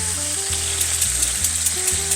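Oil heating for deep frying on a stovetop sizzles and crackles steadily and close, a continuous bright frying hiss with small pops, with a faint musical tone underneath and no talking.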